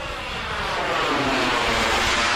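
A loud, steady roar from an RC jet airplane making a low pass over an airfield, the turbine whine holding strong and close throughout the short moment.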